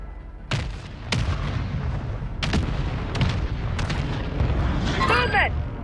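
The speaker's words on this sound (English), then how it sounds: "Friendly mortar strike on the way." Friendly mortar strikes land in a Call of Duty match as repeated heavy booms over a rumbling battlefield bed, with an in-game voice speaking and a brief whistling sweep near the end.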